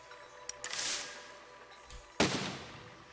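Cannon in the Besiege video game firing, with a few sharp clicks followed by a broad booming blast, then a second loud report with a rumbling tail.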